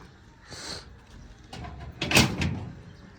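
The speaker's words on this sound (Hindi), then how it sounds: "दरवाजा खोल।" A door is opened with a few muffled knocks and a scraping, rattling clatter, fairly close and moderately loud, in a quiet room.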